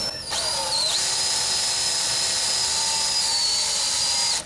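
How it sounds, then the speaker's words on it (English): A power drill bores a pilot hole into a rusted, broken bolt at a center-punch mark, a steady high whine that starts with a brief rise in pitch, holds loud and close for several seconds, then stops abruptly. "drill your hole through there first"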